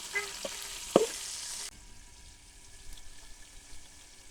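Salted okra hits hot oil in a village kitchen pan, a loud bright hiss with a couple of sharp clicks that cuts off abruptly, leaving a faint low simmer.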